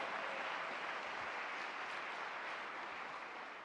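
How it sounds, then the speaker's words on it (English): A large conference room crowd applauds steadily and evenly at a leadership conference, the dense clapping staying level throughout and tailing off only slightly at the end, with no voices heard. "Let's give yourselves a round of applause."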